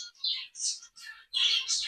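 A pair of zebra finches, male and female, chirping in quick bursts of high, bright calls close by, several short phrases separated by brief pauses.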